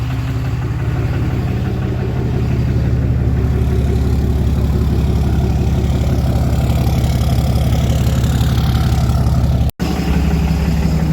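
A Cummins diesel truck engine idles with a steady, loud, close rumble and fine knocking texture. Fuel pressure runs at 12,000 psi at idle, and the throttle body is faulty. The sound cuts out for a split second near the end.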